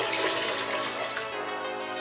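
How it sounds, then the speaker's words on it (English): Water streaming and splashing as a soaked rabbit hide is wrung out over a tanning bath, a steady close rush of running liquid that eases slightly toward the end. "Trying to get the water out of it."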